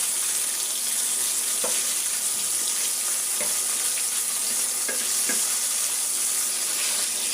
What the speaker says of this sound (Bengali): যারা কষানো মাছ খেতে পারেন না, তারা হালকা করে ভেজে নেবেন।